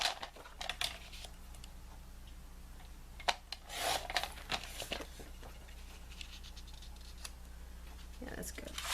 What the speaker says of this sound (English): So I'm cutting 1/2 inch off the top of the paper so that I'll have enough to cover.